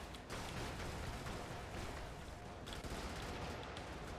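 Sustained heavy gunfire in the top-down mech game Brigador: a dense, continuous roar of rapid shots and explosions that keeps a loud level throughout.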